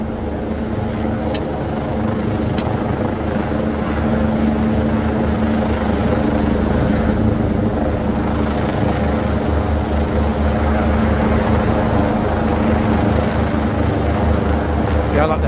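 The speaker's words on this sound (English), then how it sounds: "the helicopter's going to start moving itself this way, meaning that we can't get out of the noise zone" A police helicopter hovers overhead at a protest, its rotor thudding in a loud, continuous drone that holds steady across the whole stretch, with faint street sounds underneath.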